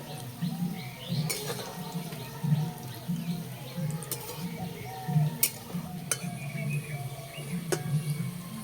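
Pantua pitha fries gently in oil over low heat, a quiet steady sizzle with soft repeated stirring scrapes and occasional sharp clicks of a utensil against the pan.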